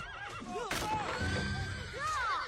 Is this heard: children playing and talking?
no